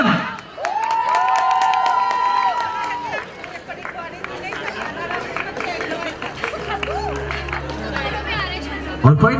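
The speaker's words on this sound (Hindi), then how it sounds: "और एक बार सभी की जोरदार तालियां, कम ऑन!" Guests at a 25th wedding anniversary party cheer and applaud in a loud, lively crowd, with chatter and shouts layered over the clapping and a tonal music-like line rising above the noise.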